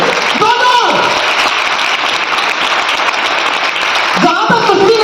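Audience applause at a company's second anniversary celebration in India, a steady dense wash of clapping through the whole stretch, with a voice speaking over it near the start and again near the end.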